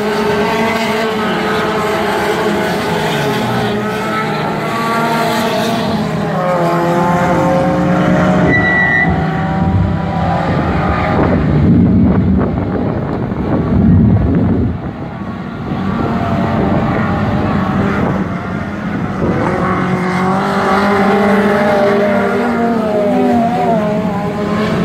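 Race cars in the light class roar around the Jacaraípe dirt speedway, engines revving and rising as they pass close, with a dense sustained growl that surges and fades over the lap, under excited Portuguese commentary.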